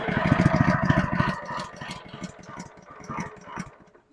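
A Honda GX200 engine on a Simpson pressure washer, its carburetor just cleaned, is pull-started. A rapid, close putter starts strong, then grows rougher and quieter over a few seconds.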